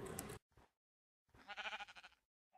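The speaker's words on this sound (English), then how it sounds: "Oh, hey, I found a sheep!" A sheep in a video game bleats, first in a short burst and then in a longer wavering call, clear and close, with silence between the two.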